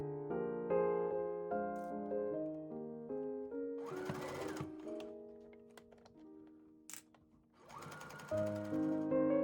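Sewing machine stitching a seam on a pants skirt, two short bursts of rapid mechanical whirring heard close up, while soft tonal music plays throughout.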